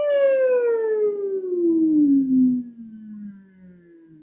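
A single human voice hums a long gliding tone that slides smoothly downward like a siren, trailing off into a soft low note.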